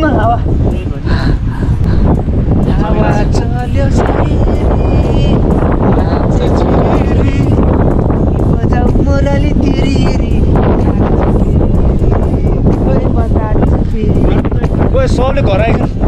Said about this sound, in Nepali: हावा हेर्नु